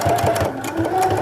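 A domestic sewing machine runs a straight stitch on a small fabric pin cushion, its needle pounding in a quick, even rhythm, loud and close, with brief pauses and a faint whine.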